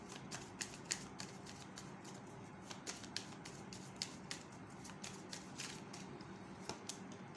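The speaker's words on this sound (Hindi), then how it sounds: "ये मैं शफल कर रही थी" Tarot cards being shuffled by hand: a faint, quick run of soft riffling clicks and flutters continues at close range, quiet and steady throughout, with no voices.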